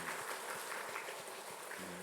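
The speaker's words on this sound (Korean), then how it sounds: "박수로 격려하겠습니다" Soft applause from a church congregation during a Sunday morning service, a faint, even patter of clapping heard from a distance.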